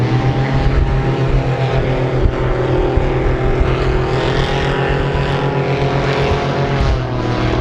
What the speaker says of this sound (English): they already have the airboat ride hanging out to go see the crocs. That's loud.